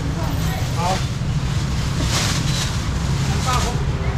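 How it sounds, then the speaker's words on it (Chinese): Strong wind buffets the microphone at an outdoor seafood auction in Chiayi, Taiwan, a steady loud low rumble throughout with faint voices in the background. "很大风。"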